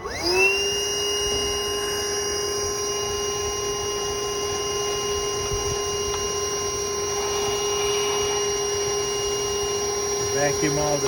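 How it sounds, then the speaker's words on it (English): A vacuum cleaner starts up and runs with a steady loud whine while sucking dirt from the coil area of a Cummins generator, constant throughout and shutting down near the end. "Vacuum all the dirt out now."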